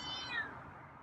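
A feral cat gives a soft, drawn-out meow close by, with a faint rising and falling pitch and no talking over it.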